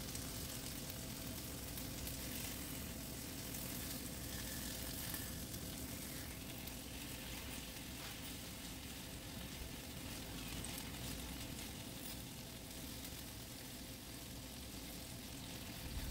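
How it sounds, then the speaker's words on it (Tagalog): Chicken burger patties fry in a pan with a steady, soft sizzle that holds evenly throughout, moderately quiet and uninterrupted by voices. "Iluto ang patties hanggang maging light brown ang side nito"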